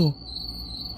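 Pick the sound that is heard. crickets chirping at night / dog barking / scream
crickets chirping at night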